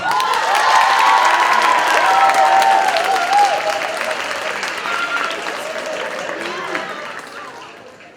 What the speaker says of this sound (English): Can I get a round of applause for Isa, please?